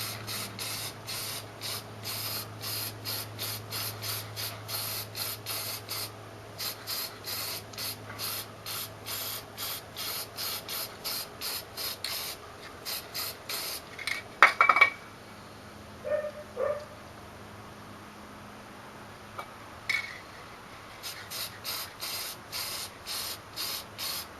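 Aluminum paint sprayed onto a GL1100 motorcycle cylinder head, in repeated short hissing bursts with brief pauses, then a few louder knocks and handling sounds midway before the spraying resumes.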